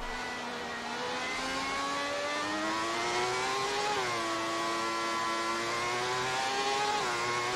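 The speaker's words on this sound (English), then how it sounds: "You can hear the delay in the engine getting a bit of speed out of that corner" A racing car engine in a classic F1 game drones steadily and strongly on a wet German track. Its pitch climbs slowly as the car accelerates out of a corner, with a brief dip and then a rise again, and no talk.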